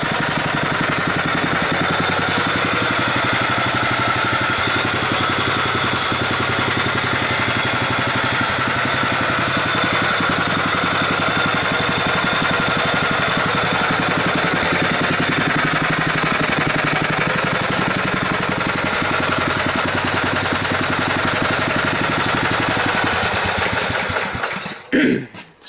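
A homemade generator, driven by an engine through a belt with no tensioner yet, runs loud and steady for about 25 seconds with a constant mechanical drone, then abruptly cuts off at the very end.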